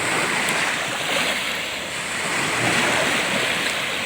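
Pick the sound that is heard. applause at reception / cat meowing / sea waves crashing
sea waves crashing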